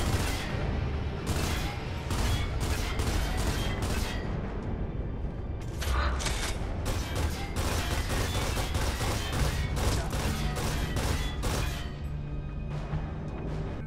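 Sustained gunfire from the Gears of War video game as a Locust is shot, with dense, loud, repeated bursts and mechanical clatter running without a break.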